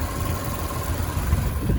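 A 2019 Audi S4 with a V6 engine idles steadily nearby, a low, even rumble with a faint whine above it and no revving.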